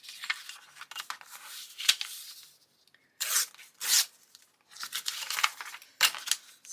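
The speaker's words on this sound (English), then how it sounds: "let me just tear some of these off" Paper pages are torn off by hand for a junk journal, close and crisp, in several short ripping strokes separated by brief pauses and light rustling.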